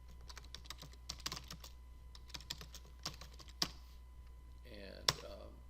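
Computer keyboard keys tapped in quick irregular bursts while a name is typed, soft close clicks over a low steady hum, with a faint voice near the end.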